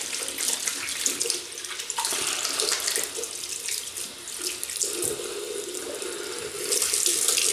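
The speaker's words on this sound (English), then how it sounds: "rinse hands." Hands are rinsed under a running tap at a bathroom sink during a wet shave, a steady close hiss of flowing water broken by splashy shifts as the hands move through the stream.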